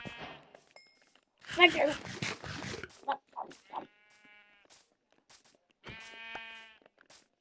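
Sheep in the video game Minecraft bleat in short, clear, wavering calls, two of them standing out in a quiet scene, amid scattered footstep clicks and a short burst of speech.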